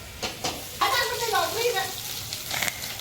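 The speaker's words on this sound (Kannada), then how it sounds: "ಇವಾಗ ಈರುಳ್ಳಿ ಹಾಕ್ತಿದ್ದೀನಿ. ಈರುಳ್ಳಿ ಬೇಗ ಫ್ರೈ ಆಗಬೇಕಾದ್ರೆ ಚೂರು ಉಪ್ಪು ಹಾಕಿದ್ರೆ ಫ್ರೈ ಬೇಕಾಗುತ್ತೆ" Chopped onions with a pinch of salt hit hot oil in a home kitchen pan, bursting into a steady crackling sizzle after a couple of soft knocks, close and fairly loud, with the frying continuing to the end.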